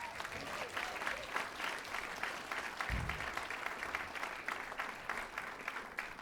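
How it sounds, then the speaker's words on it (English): An audience at the Rhapsody Rotorua concert applauds Tim Kelly, a dense, sustained round of clapping heard from within the hall, steady throughout with a brief low thump partway through. "can we give Tim Kelly a round of applause?"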